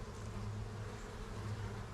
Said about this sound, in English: You can see the bees bringing pollen in.